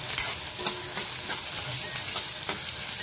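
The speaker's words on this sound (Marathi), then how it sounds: "तेल आपलं तापलंय, त्यात हा एक कांदा कापलाय तो घालते।" Chopped onion frying in hot oil in a kadai, a continuous crackling sizzle punctuated by several sharp stirring scrapes at irregular intervals, close and clear with no talk.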